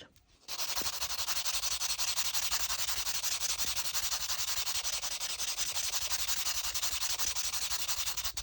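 A dried air-dry clay figure being sanded by hand gives a continuous, close, even rasping scrape that begins after a brief pause and runs steadily to the end, with no voices.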